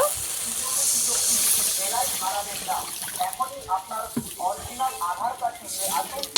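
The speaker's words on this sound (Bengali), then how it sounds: "গুঁড়ো মশলা দেওয়ার পরে এবার জল দিয়ে দেব" Water poured into a pan of hot, frying ground spice masala for a pomfret curry, giving a loud steady hiss at first that settles into bubbling, spluttering sizzles with some faint background voice.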